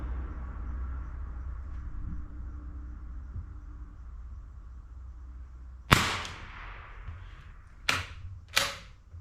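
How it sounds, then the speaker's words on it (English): A Marlin Model 25 .22 rifle firing Federal Auto Match ammunition outdoors cracks three times, sharp and loud, after several seconds of low background hum, with the last two shots close together. "I know that Federal Auto Match is loud because it's got that notorious 1022 crack down range."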